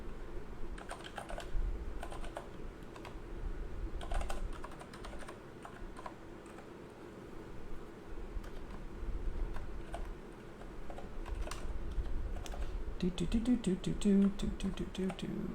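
Continuous clicking of fingers typing on a computer keyboard in irregular bursts, close by, with faint background noise throughout.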